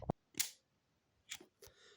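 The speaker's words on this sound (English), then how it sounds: "I'm going to fire this shutter now" A Minox 35 ML compact film camera with an aperture fault fires its shutter. The result is a few sharp, close mechanical clicks and snaps separated by brief quiet, all fairly faint.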